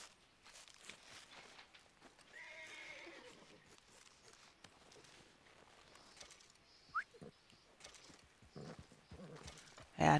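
Horse in Red Dead Redemption 2 whinnies faintly and its hooves clop quietly in an uneven rhythm, with soft ambient game sounds and a sharp louder hit at the end.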